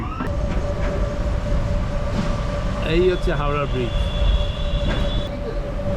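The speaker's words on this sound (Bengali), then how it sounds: "দেখুন পাশ থেকে ট্রেন যাচ্ছে মাঝেরহাট লোকাল" A Majerhat local train rumbles past nearby in Kolkata with squealing wheels and a sustained high whine, while a voice speaks briefly over the noise.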